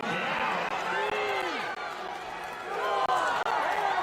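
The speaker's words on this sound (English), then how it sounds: "The crowd is counting." Crowd in a packed arena at the CrossFit Games counting reps aloud for an athlete, rhythmic massed chanting with rising calls, under a commentator's voice.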